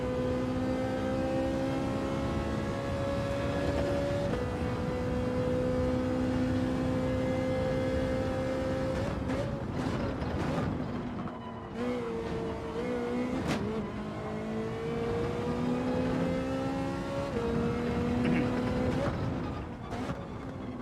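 A Ferrari race car engine in Gran Turismo 7 Daily Racing drones steadily with rising and falling pitch through gear changes and revs, loud and continuous, with brief shifts and braking dips midway.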